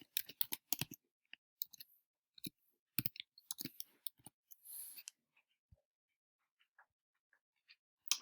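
Someone types an answer into a computer, producing quiet, irregular clusters of sharp keyboard clicks with short pauses between bursts.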